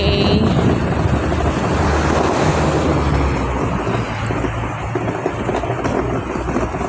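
Steady strong wind in Hong Kong blasts across the microphone, a constant loud rumbling rush that swells and eases slightly but never stops.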